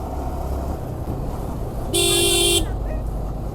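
A car horn gives one loud, sustained honk lasting under a second in road traffic, over steady engine and road noise.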